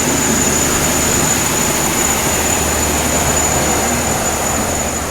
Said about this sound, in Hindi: चलिए निकल गई दोस्तों अपनी ट्रेन जो है लोकमान्य तिलक टर्मिनस से।